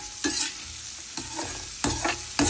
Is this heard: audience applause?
no